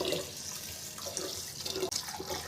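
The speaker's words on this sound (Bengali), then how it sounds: "আমি চালগুলো ধুয়ে নিচ্ছি।" Rice being rinsed under a running kitchen tap, water pouring and splashing steadily into a sink for a few seconds with no talking.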